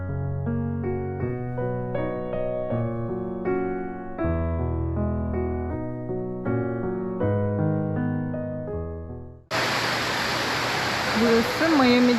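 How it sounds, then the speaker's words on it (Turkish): An artificial waterfall at a tourist spot in Miami roars with a loud, steady, broad rush of falling water after several seconds of background music end abruptly. "Şöyle yapay bir şelalesi var şurada."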